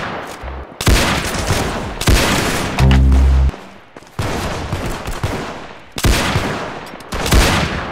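Rapid bursts of gunfire from the Roblox game Arsenal, loud repeated volleys in several clusters with a heavy booming shot in the middle, no talking.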